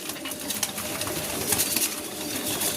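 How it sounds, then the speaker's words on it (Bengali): Pigeons, mostly black females kept in a loft, feeding and cooing, with soft coos and scattered pecking and fluttering over a steady, fairly close background hiss; no one speaks. "এই যে দেখুন পায়রা খাচ্ছে।"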